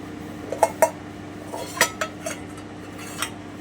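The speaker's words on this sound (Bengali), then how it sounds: "এবারে আমি ঢাকাটা উঠিয়ে দিচ্ছি" A lid lifts off a steel bowl of steamed hilsa fish in mustard, bringing a few sharp metallic clinks and clatters spaced over several seconds against a quiet kitchen background.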